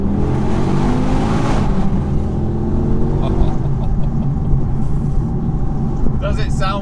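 An Audi TT RS Roadster with a particulate filter accelerating hard under a bridge, loud rising engine drone heard from inside the car, with someone talking over it.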